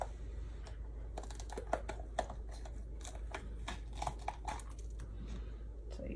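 A serrated tomato knife saws through a green pepper on a cutting board, giving a run of crisp, close clicks and crunches with irregular rhythm over a steady low hum.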